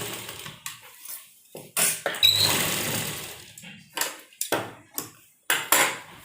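Sewing machine stitching a blouse hem, short bursts of rapid mechanical whirring separated by pauses and handling clicks, close and fairly loud.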